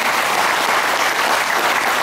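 Steady, dense applause from a large audience fills the whole moment, loud and even without pause.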